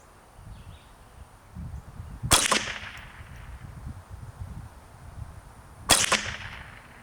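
Two sharp cracks from an A22 Standard Model .22 rifle firing 40 grain standard velocity rounds, several seconds apart, each with a short ringing tail over a quiet outdoor background with faint murmuring.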